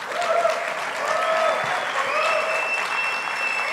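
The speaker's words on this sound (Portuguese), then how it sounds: "Uma salva de palmas para esse cara" A crowd applauding during a business talk, a broad steady wash of many clapping hands with faint whistles and cheers rising through it, sustained for several seconds.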